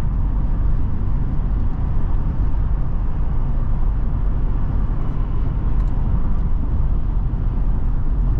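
A Ford Expedition XLT 4x4 cruising along a road, heard from inside as a steady, loud rumble of engine and tire noise that holds constant without breaks, with no talking.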